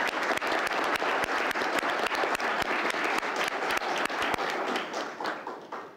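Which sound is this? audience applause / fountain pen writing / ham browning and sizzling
audience applause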